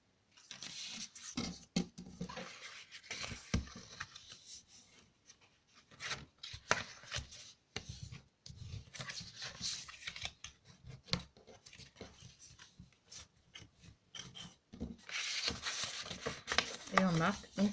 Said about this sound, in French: Et on marque donc tous nos plis de tous les côtés.